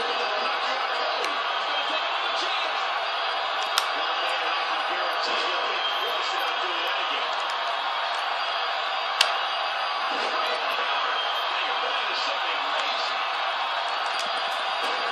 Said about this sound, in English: The crowd is going insane.